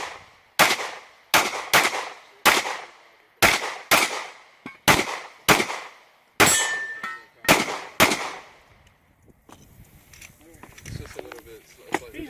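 Pistol shots crack one at a time in an outdoor USPSA match stage, about a dozen sharp reports in an uneven quick rhythm with metallic target clangs among them, followed by quieter movement and voices.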